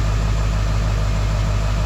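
A 2001 Ford Excursion with the 7.3 diesel idles just after a cold start, a steady, loud, close low rumble with an even throb and no voices.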